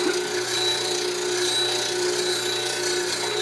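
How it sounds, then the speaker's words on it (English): A skew chisel edge being ground, giving a continuous, steady abrasive hiss and whine at an even level throughout, close by and with no talking. "I really want to take off a little more on this edge right here to grind it back"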